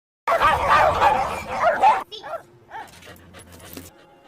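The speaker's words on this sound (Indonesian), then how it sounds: "2 anjing menggonggong di mobilnya." Two dogs bark loudly and in a dense overlapping burst for about two seconds near a car outside a house, followed by quieter scattered noises and a low hum.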